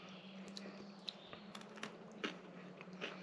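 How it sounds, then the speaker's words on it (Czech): Freeze-dried cheese strings crunch in a person's mouth as irregular crisp bites and chewing cracks, quiet and close over a low steady hum. "Je příjemné, jak to křupe. Prostě mražený sýr nebo sušený je fajn věc."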